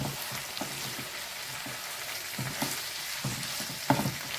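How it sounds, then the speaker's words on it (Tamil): Pirandai (adamant creeper) chutney ingredients saute in a pan, giving a soft, continuous frying crackle with a few louder stirring bumps and one sharp clink near the end, no talking. "நல்லா வதங்கட்டும் உருளை வதங்கணுங்க"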